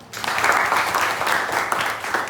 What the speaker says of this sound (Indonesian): Oke, tepuk tangan dulu kita